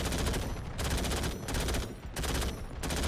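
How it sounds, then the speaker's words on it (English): Machine gun fire from a Marder IFV in a desert warfare video game: sustained, loud, close bursts that pause briefly between volleys, with no talk over them. "Let's spray some machine gun ammo again"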